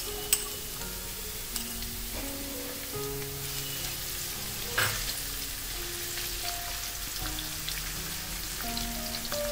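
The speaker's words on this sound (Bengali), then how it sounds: "দশ পনেরো সেকেন্ড মতো ভেজে নেওয়ার পর আমি এর মধ্যে দিয়ে দেব একটা বড় সাইজের পেঁয়াজ কুচি।" Chopped large onion sizzling steadily in a hot pan with oil for a cauliflower Manchurian, a continuous fry hiss broken by a few light utensil taps, with no one speaking.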